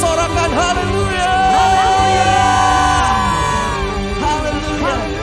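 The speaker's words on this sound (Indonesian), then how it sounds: "Sorakan haleluya" A church congregation at an Indonesian worship service shouts hallelujah together. Many loud voices cry out in sustained, overlapping yells and whoops, continuous throughout.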